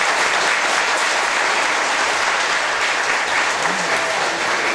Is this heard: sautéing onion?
no